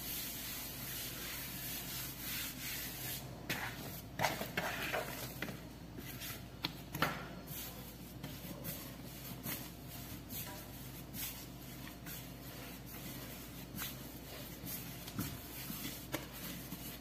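Dough for a simple breakfast snack is kneaded quickly by hand on a floured surface, giving soft, irregular rubbing and patting sounds, fairly faint, with a few sharper thumps.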